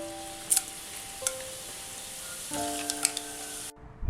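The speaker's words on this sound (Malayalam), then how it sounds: "ഈ എണ്ണയിലേക്ക് ജീരകം, ഏലക്ക, പട്ട, ഗ്രാമ്പു, ബേ ലീഫ്." Cumin, cardamom, cinnamon, cloves and bay leaf sizzling in hot oil, a steady soft frying hiss with a few faint pops, under quiet sustained background tones and no talk.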